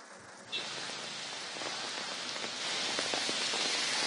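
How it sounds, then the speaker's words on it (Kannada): Steady rain pours down over Bengaluru streets, a dense even hiss of drops on surfaces that swells slightly louder partway through, with no voices. "ಅದೇ ಪ್ರಕಾರವಾಗಿ ಈಗ ಮಳೆ ಬರ್ತಾ ಇರುವಂತದ್ದು"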